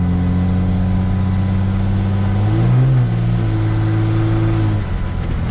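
A 2002-2009 Dodge Cummins diesel truck with a gashed intercooler and a massive boost leak, running with a loud, steady droning engine note that rises and dips briefly in pitch partway through, heard up close without speech.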